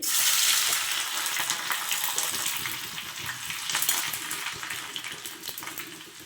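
Mustard seeds, dried red chillies and garlic fry in hot oil for a sambar, making a continuous bright sizzle and crackle with scattered pops and light stirring clinks.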